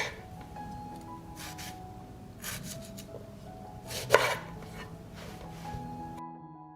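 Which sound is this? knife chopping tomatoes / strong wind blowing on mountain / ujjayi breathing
knife chopping tomatoes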